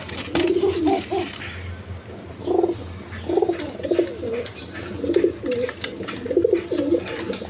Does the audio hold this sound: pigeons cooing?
yes